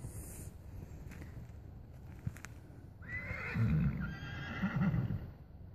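A 2014 Hanoverian colt whinnies loudly and moves at a trot, with faint hoof clip-clop beneath; the neighing swells in the second half over a steady outdoor background.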